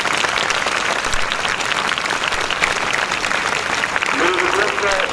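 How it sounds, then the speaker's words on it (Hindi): Loud applause from a school crowd at an Independence Day celebration, welcoming students with continuous dense clapping at steady volume, a faint voice rising briefly near the end. "एक बार जोरदार तालियों के साथ उनका स्वागत।"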